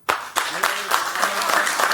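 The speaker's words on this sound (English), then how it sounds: "clap just the men, clap if you think this relationship is a wrap" Studio audience on a daytime talk show clapping, starting with a few sharp separate claps that thicken into steady applause, with talk over the top.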